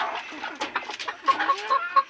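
Village chickens clucking in short, busy bursts close by, a rooster among them, with a faint repeated high tone in the background.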